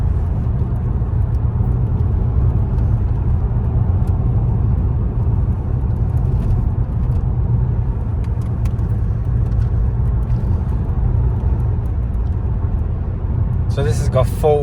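A 2011 Renault Laguna Coupe on the move, heard from inside as a steady, loud low engine and road rumble that holds constant throughout, with people talking over it.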